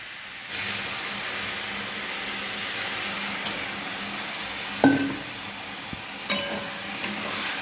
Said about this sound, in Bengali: লাল লাল করে ভাজা হয়ে গেছে এবার আমি হালকা একটু জল দিয়ে দেবো